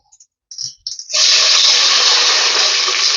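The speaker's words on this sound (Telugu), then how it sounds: "ఇప్పుడు దీంట్లో మీ మెజర్మెంట్ ప్రకారం వాటర్ పోసేసుకోండి" Water poured into a pot of browned onions while making chicken biryani: a couple of faint clinks, then a steady, loud rushing splash that runs on without a break.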